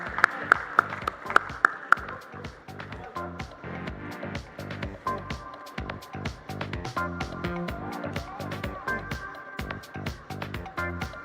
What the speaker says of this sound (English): So can we give our stellar panel a huge round of applause